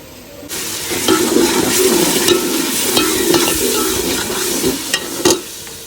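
Spice masala with red chilli and salt is fried and stirred in a pan, making a loud, continuous sizzle broken by repeated scraping strokes of the spoon.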